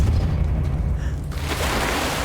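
A forceful Depulso spell impact in Hogwarts Legacy lands as a dense, booming rumble that fills the moment, with a fresh burst of noise partway through.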